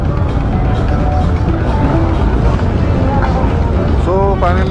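A pack of loud Harley-Davidson motorcycles rolls in a parade at the 2024 NHR rally in Panchkula, a dense engine roar under heavy wind buffeting on the mic, with a few brief tonal calls or horns near the end.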